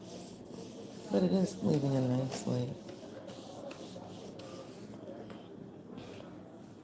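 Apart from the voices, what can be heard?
face scrubber rubbing paint onto a painting background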